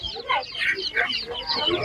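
Chickens cluck in short, choppy bursts at an outdoor poultry market, nearby and moderately loud, with overlapping calls and market bustle behind them.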